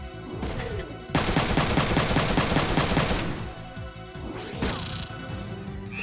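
Rapid bursts of gunfire in the video game Front Mission 3: a loud, dense volley of repeated shots over several seconds with sharp impacts and whooshes on either side, no talking.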